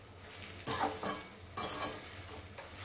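Rava and semiya roasting in ghee in a pan as they are stirred, quiet sizzling broken by a few louder scraping strokes of the spoon against the pan, close and without voices.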